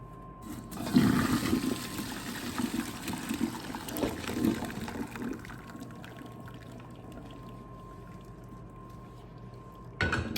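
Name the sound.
draining water from boiled yams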